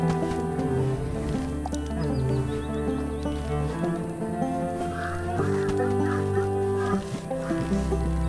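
Cartoonish birds cluck and squawk in the cozy life-sim game Cozy Grove, mixed into gentle, continuous background music that stays prominent throughout.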